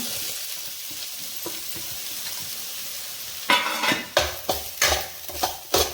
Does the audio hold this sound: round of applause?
no